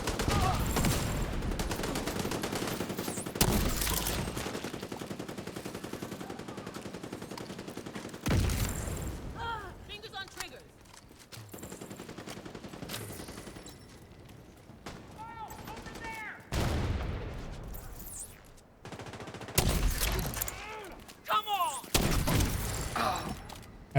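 Gunfire in an online multiplayer video game: loud bursts of rapid shots and sustained fusillades in several long stretches, separated by quieter gaps with brief chirps, while players chat over a voice call.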